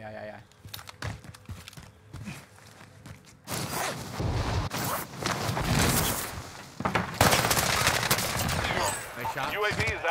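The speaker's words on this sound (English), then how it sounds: "They're shooting." Rapid automatic gunfire in Call of Duty Warzone on the Caldera map, loud close bursts that grow denser partway through, with players talking over the shooting.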